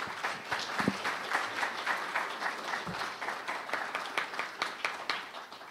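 Live audience clapping at the close of a nighttime event held in bad weather, a steady burst of many hands with sharp individual claps standing out, sustained at even loudness throughout.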